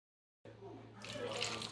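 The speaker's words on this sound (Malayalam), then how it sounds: "കുറച്ച് വെള്ളം ഒഴിച്ച് കൊടുക്കാം." Water is poured onto papaya in a cooking pan, a soft liquid splashing that starts abruptly and grows slightly brighter, faint and close.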